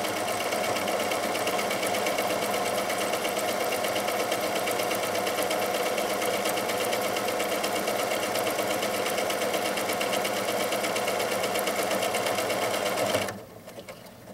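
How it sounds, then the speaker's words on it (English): Janome DC1050 sewing machine stitching a buttonhole, a steady rapid mechanical hum and needle clatter running continuously until it stops abruptly near the end. "DC1050 is going to make our buttonhole for us"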